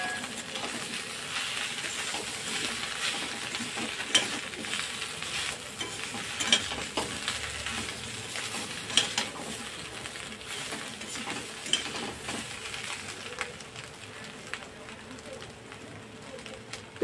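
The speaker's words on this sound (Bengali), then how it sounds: "হলুদটা দিয়ে অল্প একটু নেড়ে নেবো।" Turmeric stirred into frying spices in a pan while cooking a katla fish curry, a continuous close sizzle with repeated spatula scrapes and occasional sharper clinks throughout.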